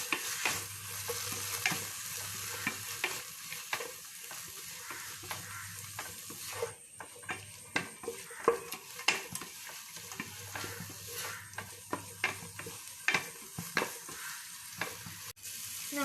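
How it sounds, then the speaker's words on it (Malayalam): Fried rice with tomato sauce and other sauces sizzles steadily in a pan as a spoon stirs it, giving repeated close scraping and clinking strokes over the constant frying hiss. "നമുക്ക് ഈ സോസുകളൊക്കെ നല്ലപോലെ മിക്സ് ചെയ്യാം."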